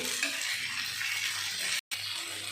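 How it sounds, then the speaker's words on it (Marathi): Green peas sautéing in oil for a pea karanji filling give a steady, soft sizzle with faint stirring, broken by a brief moment of silence near the end. "हे बघा वाटाणा जरासा आपल्याला तेलामध्ये थोडंसं परतून घ्यायचा आहे"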